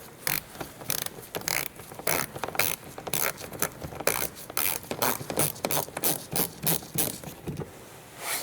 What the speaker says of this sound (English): We are using 10mm socket.